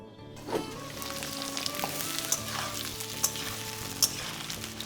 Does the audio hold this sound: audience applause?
no